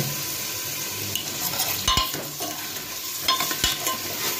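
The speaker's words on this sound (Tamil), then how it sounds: "கத்திரிக்காய் நல்லா ஃப்ரை ஆகிடுச்சு எண்ணெயில்." Brinjal pieces fry in oil with onion and ginger-garlic paste, a dense close sizzle running throughout while a spoon stirs and scrapes the pan, with two sharp metallic knocks.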